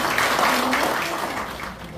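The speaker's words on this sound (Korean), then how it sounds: "힘찬 박수 부탁드리겠습니다." Applause at a Lions Club 45th anniversary ceremony in a buffet hall, a short burst of audience clapping that fades gradually, with faint murmuring underneath.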